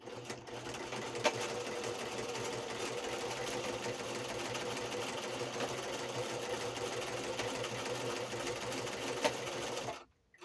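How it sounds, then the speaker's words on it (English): Sewing machine running a zigzag stitch to attach a paper pocket tag, a steady close mechanical whir and rapid needle clatter for about ten seconds, stopping abruptly at the end. "Just going to sew this on."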